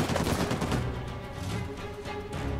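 Rapid bursts of video game gunfire crackle continuously, dense automatic shots layered with booms and a low rumbling background, loud throughout, during a marketplace shootout in Uncharted 4: A Thief's End.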